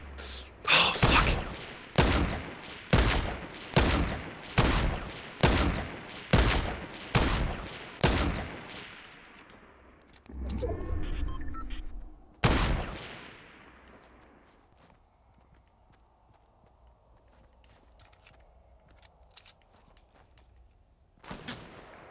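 Semi-auto sniper rifle in Fortnite fires about ten loud, evenly spaced shots roughly one second apart. After a pause comes a single final shot, then the action goes quiet with faint game noise.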